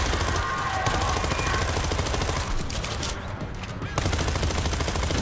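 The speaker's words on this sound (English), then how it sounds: "I've got an auto turret!" Rapid automatic gunfire from an auto turret in the zombie shooter game World War Z, a dense continuous fusillade that fills the clip and briefly drops back around the middle before resuming.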